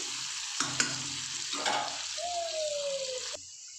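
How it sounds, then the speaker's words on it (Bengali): Carrots stir-fried in a hot pan sizzle close up, with a couple of sharp utensil clacks near the start and steady frying hiss throughout, plus a brief whistling tone midway before the sound drops quieter at the end. "একটু গাজরটা ভাজা ভাজা করে নিই।"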